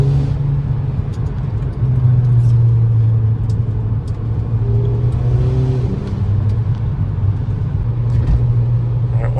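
Lowered Volkswagen GLI Fahrenheit edition on coilovers driving through corners, a steady close engine drone and road rumble throughout with slight rises in pitch, no talk.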